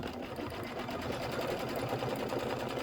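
A sewing machine stitches a chenille hot pad in a steady, continuous mechanical whir with a fast regular needle rhythm, close and constant throughout.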